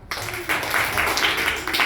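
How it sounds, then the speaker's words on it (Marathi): Schoolchildren at a rural Zilla Parishad school clap together in their classroom, a dense, fairly loud run of clapping that lasts for a couple of seconds. "छान, टाळ्या वाजवा."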